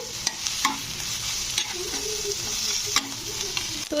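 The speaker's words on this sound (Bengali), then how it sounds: "এবারে মটনের চর্বিটাকে মশলার সঙ্গে একটু কষে নিতে হবে" Mutton fat being stir-fried with spices in a pan for ghugni, a soft continuous sizzle broken by repeated scraping clicks of a spatula, close and fairly quiet.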